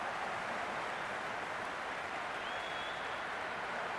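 A stadium crowd in the Cricket 26 video game during an India versus Afghanistan semi-final roars and applauds steadily, a dense, continuous wash of cheering with no pauses.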